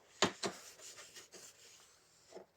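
A rag rubs and wipes across the friction plate of a Makita DUH754SZ cordless hedge trimmer, with soft close scuffing strokes, two sharper at the start and fainter ones after, in a quiet room with no talking.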